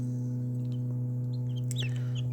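Chickens and newly hatched chicks heard as faint clucks and brief chirps over a steady loud mechanical hum.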